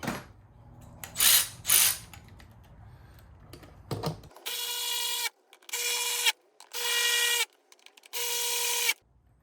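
Ratchet tightening the screws on a Jeep Gladiator engine air filter box: four bursts of rapid, close metallic clicking in even strokes, preceded by softer handling and rubbing noises, no voices.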